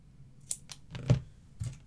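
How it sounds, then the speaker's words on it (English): Scissors snip a paper sentiment for a sketch card in a few close, quiet cuts, brief crisp crunches separated by short pauses. "I'm going to trim that down"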